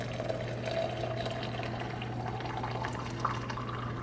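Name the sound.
pouring boiling water from kettle for tea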